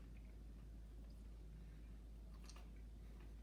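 Crunchy bites of homemade hickory smoked maple bacon being chewed close up, a steady run of soft crackling crunches with a few sharper crisp snaps partway through, no talking.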